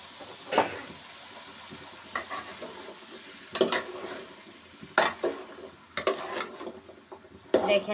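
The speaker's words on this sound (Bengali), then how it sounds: "সব কিছু একেবারে দিয়া আমি সুন্দর করে এটা কষায় নিব দেখেন" Spices and dried fish for a dried fish curry stirred and frying in a pan: a soft continuous sizzle broken by repeated scraping strokes of a spoon against the pan, close and moderately loud, with no talking.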